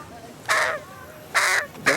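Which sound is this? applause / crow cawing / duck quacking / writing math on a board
crow cawing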